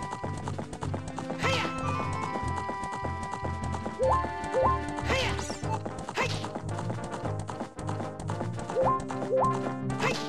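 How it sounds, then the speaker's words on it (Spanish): A horse in the Zelda Ocarina of Time video game trots with rhythmic clip-clop hoofbeats and gives a whinny, mixed into loud, continuous game music with no pause. "Caballo."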